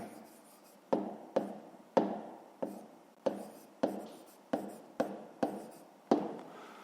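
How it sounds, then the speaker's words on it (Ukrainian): A pen moves across paper while a math answer is written out, a series of about ten distinct taps and short scratching strokes at uneven intervals, close and quiet with no talk. "Ну що ж, записуємо відповідь. Пишемо відповідь."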